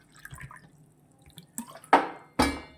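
Coconut water poured into a second pan while making a coconut agar-agar pudding, heard as a few sharp splashy pours that start abruptly and trail off, close and fairly loud after a quieter stretch.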